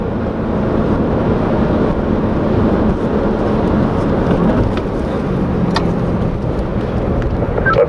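A performance car on a race track at Spring Mountain Motorsports accelerates up through the gears and brakes back down, heard as a loud, steady, broad engine and road roar with wind buffeting that runs unbroken throughout.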